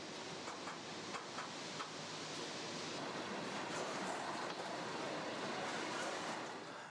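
A GE C40-8 diesel locomotive of 4,000 horsepower with a comfort cab hauls a 90-car coal unit train in Appalachia, a steady distant rumble and rolling wheel noise that swells gently, with no talk.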